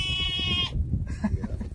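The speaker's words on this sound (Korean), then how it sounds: "염소가 없던 염소가 있네." A goat on a mountain summit gives one loud, wavering bleat close by. Quieter outdoor rustling and scattered sounds follow.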